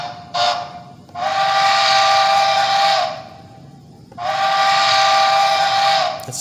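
Loud five-chime Denver & Rio Grande Western steam whistle from a Bachmann HO model train, two long sustained blasts with a short toot at the start, separated by a brief gap of background hiss.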